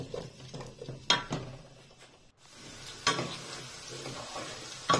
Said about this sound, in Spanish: Vamos a freírlo un poco